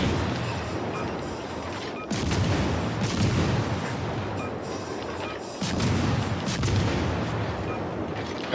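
Battleship Colorado's main guns firing in World of Warships: Legends, two big booming salvos a few seconds apart, each followed by a long rumbling roar, loud and close.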